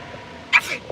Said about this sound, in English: And that's how I sneeze.